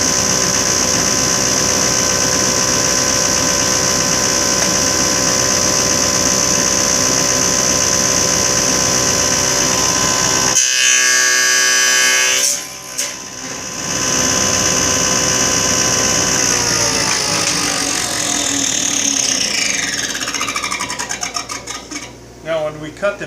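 A power saw cuts wood on a finger joint fixture, running loud with a steady high whine for about ten seconds, dropping out briefly, then spinning up again and fading as it winds down.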